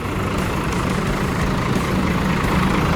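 Agramas SR1 bus engine idling at Giwangan bus terminal, a loud, steady low rumble that holds constant throughout with no voices.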